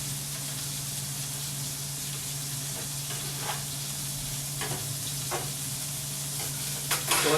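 A burger patty sizzles steadily in a hot pan, a dense continuous crackle with scattered pops and spits over a low hum, close and fairly loud.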